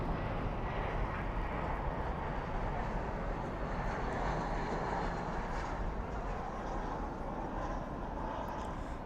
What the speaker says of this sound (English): spoilers up, reversers out as we head to the 777